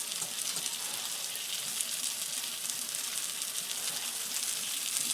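Jamaican curry chicken meatballs sizzle steadily in a hot pan, a constant bright crackle with no pauses and no talking.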